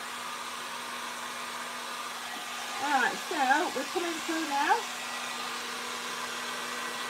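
A heat gun set to 390 blows a steady, airy roar close by, passing lightly over foam on a resin ocean piece while someone talks briefly over it.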